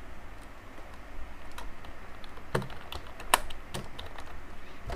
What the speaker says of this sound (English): Then after that, I'll type my thank you.